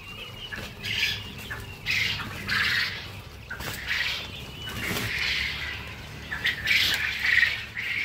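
Caged quails on a farm of about 1400 female birds squawk in repeated, overlapping bursts over a low, steady background hum. The calls are moderately loud and fairly close.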